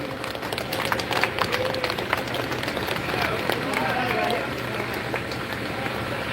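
An audience at a Kabir Sahib devotional gathering claps steadily to welcome a visiting swami, a dense sustained round of applause filling the hall at close range.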